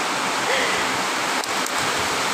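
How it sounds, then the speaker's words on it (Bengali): Heavy rain pours down steadily, a dense, loud hiss of water filling the whole scene with no pauses, with a couple of faint brief knocks partway through. "প্রচুর বৃষ্টি হচ্ছে, অনেক অনেক বৃষ্টি হচ্ছে।"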